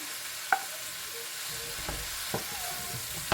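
Tomatoes sizzling as they drop into saltfish frying in a pan, a steady close hiss broken by a few sharp pops and clatters, with no talk.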